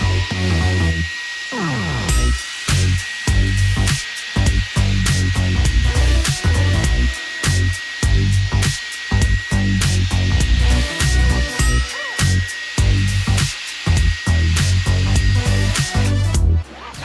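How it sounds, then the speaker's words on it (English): A power drill spinning a scrub brush works over lightly saturated carpet, a loud whining motor that cuts in and out in rapid, rhythmic bursts, close up and with no talking. "Then I'm gonna drill brush."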